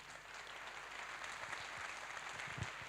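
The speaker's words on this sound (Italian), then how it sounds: "facciamogli un altro applauso a Ito" Audience applause at a choir concert in a theatre, honoring a choir member named Ito, a steady broadband patter of clapping throughout with a few louder claps near the end.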